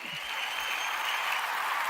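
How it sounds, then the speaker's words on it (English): Dense, even wash of crowd applause at a live after-show, steady and continuous without distinct individual claps. "Clap it up for him."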